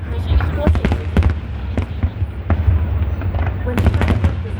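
Chinese New Year fireworks over Hong Kong harbour pop and crack in scattered bursts at a distance, irregular bangs spread across a few seconds amid crowd murmur.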